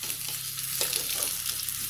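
Food sizzles steadily in a hot pan with oil, a dense crackling hiss close up, with a few light stirring scrapes.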